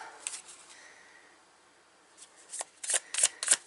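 Tarot cards of a Gil deck are shuffled by hand, with quiet rustling giving way to a series of crisp riffling snaps that grow louder toward the end.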